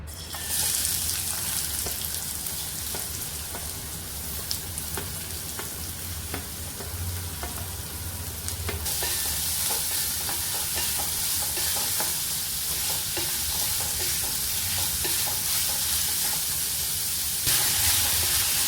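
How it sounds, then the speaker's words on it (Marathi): Onion frying in hot oil in a kadhai over a gas flame, a steady close sizzle with stirring scrapes that grows brighter and louder partway through, no talk. "कांदा चांगला फ्राय करून घेऊया"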